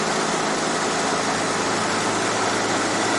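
Steady engine drone of a car on the road in the Carpathians, a constant broadband rumble with road and cabin noise, close and unbroken, no voices.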